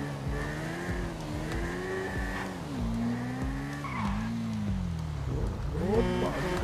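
A motorcycle ridden in the video game GTA V, with steady engine drone, repeated tire squeals and skids, and a brief rev near the end, loud and continuous with no talk over it.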